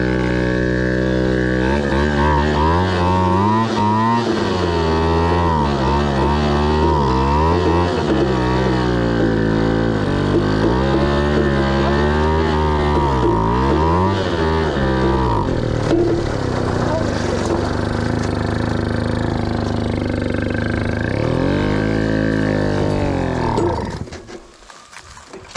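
An old cheap Ducati motorcycle, over forty years old, is started and runs, its engine roaring loudly and steadily with rising and falling revs for about twenty-three seconds before cutting out abruptly.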